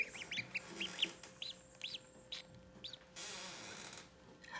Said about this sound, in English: Hatching duck.